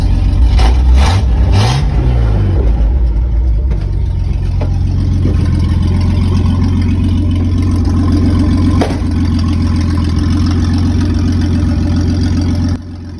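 A Jeep Comanche MJ 4x4 pickup truck engine revs a few times then settles into a steady, loud, close running rumble as it drives.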